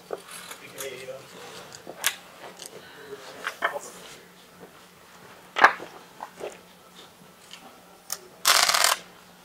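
Cards for The Visitor board game are shuffled and handled on a table in scattered soft riffles and taps, ending in a brief, loud burst of riffling near the end. A voice speaks quietly in the background.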